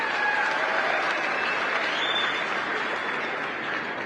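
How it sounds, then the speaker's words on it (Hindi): Loud, sustained applause from a seated gathering of men at a pigeon-flying tournament event in Haryana, a dense steady wash of clapping with no break throughout. "जोरदार तालियां।"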